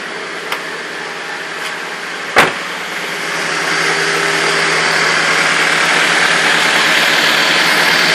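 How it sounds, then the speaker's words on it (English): A Honda Civic with a suspected bad head gasket idles steadily up close, a smooth continuous engine hum with a sharp click early on, no talking. "The engine sounds fine."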